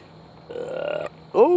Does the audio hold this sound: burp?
yes